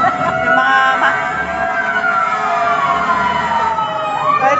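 A fire truck siren wails at a fire on EDSA in Barangay 75, Pasay City, its rising and falling tones sounding loud and steady throughout as the truck approaches.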